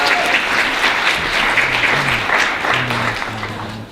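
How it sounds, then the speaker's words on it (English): A conference audience at an International Women's Day event applauds, dense sustained clapping that continues for the whole span, with faint voices underneath. "Please give this conference a round of applause."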